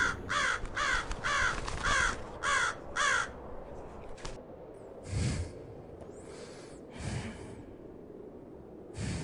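A crow in an Assamese children's story gives a quick run of about six harsh caws, followed by softer breathy sounds and faint scattered rustles.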